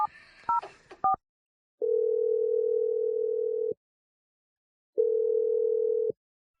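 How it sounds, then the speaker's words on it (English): A phone keypad beeps out a quick run of touch-tone digits, followed by two long, steady ringback tones separated by silence, clean and close. "We're going to dial Vince's phone number"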